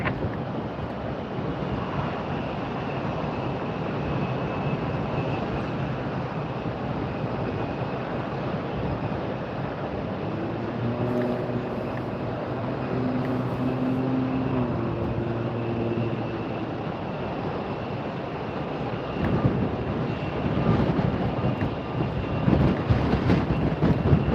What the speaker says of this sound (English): what a beautiful landing in all this wind